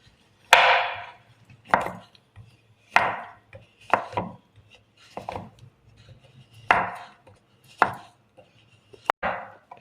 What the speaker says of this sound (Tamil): நல்லா ஃபைனாக கட் பண்ணிக்கோங்க, அப்போ தான் உங்களுக்கு ஈஸியாக மெல்ட் ஆகும்.